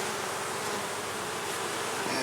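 Honey bees swarm in a dense, steady buzz around hive frames in a queen-rearing yard, a close, continuous hum that never lets up.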